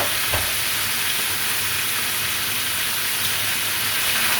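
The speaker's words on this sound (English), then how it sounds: "And then stir our green beans around some more" Green beans with ginger sizzling in a hot pan as they are stirred, a dense, even frying hiss that stays loud and steady throughout with faint scraping underneath.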